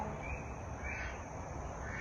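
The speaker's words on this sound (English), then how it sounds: "you can also hear the sound from all kinds of insects and birds behind me." Steady outdoor ambience at dusk on a mountain tea farm, a dense wash of insect buzzing and distant bird calls holding at an even, moderate level with no voices.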